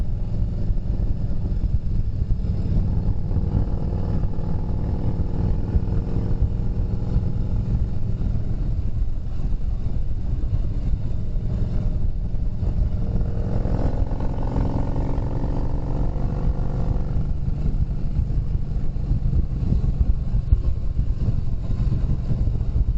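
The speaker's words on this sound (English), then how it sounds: "Pretty sure it's Cobra exhaust. Sounds good though." A motorcycle fitted with a Cobra exhaust rides along with a steady low engine rumble under heavy wind buffeting, the pitch rising briefly as it accelerates midway.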